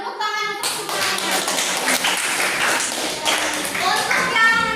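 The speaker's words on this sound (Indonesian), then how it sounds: "Tepuk tangan untuk semuanya" A class of schoolchildren in an Indonesian lesson bursts into steady group clapping after a brief quiet moment, with children's voices calling out over the applause throughout.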